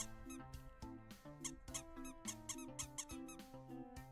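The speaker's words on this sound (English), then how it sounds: "Commodore Friday using the Giga Squeak" A Giga Squeak squeaky-toy sound alert fires during a live stream, a rapid run of bright, close squeaks bouncing over a bouncy musical backing.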